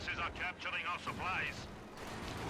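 A field gun strikes a target in Company of Heroes 2, a deep artillery boom and rumble partly under a commentator's voice.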